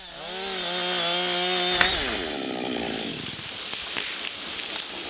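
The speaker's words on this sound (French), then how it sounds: "Finalement, sciez le talon qui retient l'arbre." A chainsaw runs at steady, rising revs and then bogs down as it cuts through the holding wood of a tree being felled. The engine is close and loud, with woody crackling as the cut finishes.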